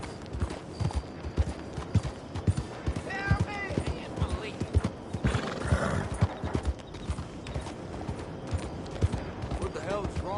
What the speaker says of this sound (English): That's a fine horse.